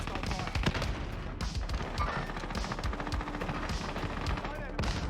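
Rapid automatic gunfire in Warzone, dense bursts of shots rattling continuously close by, with players talking over the shooting.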